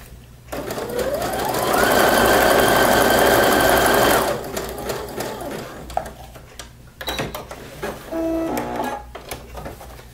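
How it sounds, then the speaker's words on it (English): A sewing machine runs a zigzag stitch at width 7 in one steady, loud whirring burst of about four seconds, followed by a few clicks and quieter handling noises. "And then go back and finish stitching."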